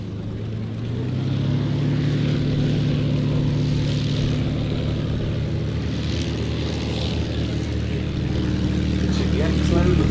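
A Hispano Buchon warplane flies past at the Duxford Battle of Britain airshow, its propeller engine droning loud and steady as it passes, with a commentator's voice over it.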